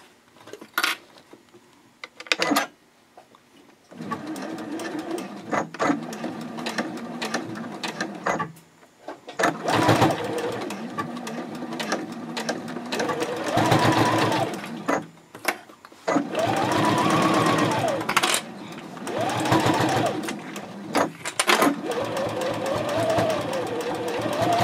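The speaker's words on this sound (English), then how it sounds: "I'll go ahead and sew" A sewing machine stitches the second side seam of a fold-flat fabric basket, running close in several bursts of steady whirring separated by short pauses, with no talking.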